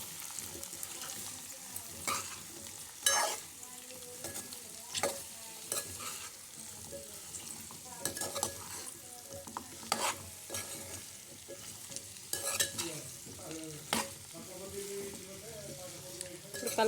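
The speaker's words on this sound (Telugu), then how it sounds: "అవి వేసేసి మంచిగా కలిపేసుకోవాలి." Bottle gourd pieces frying in a pan with turmeric, stirred repeatedly, giving a steady low sizzle broken by sharp, regular scraping strokes of the spoon against the pan, close and fairly quiet, with no talking.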